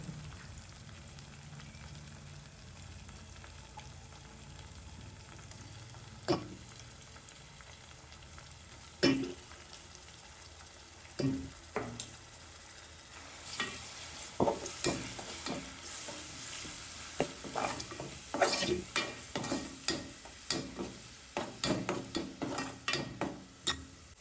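Tomatoes, onion, black pepper, bay leaf and curry leaves sizzle in hot oil for a mutton curry, a steady frying hiss broken by repeated sharp scraping stirs that grow more frequent toward the end, close up.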